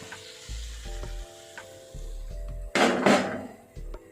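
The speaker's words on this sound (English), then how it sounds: "You can hear the sizzling." Sardines and eggs sizzle in a frying pan, a steady crackle with a louder hissing burst midway and soft knocks and scrapes of utensils against the pan.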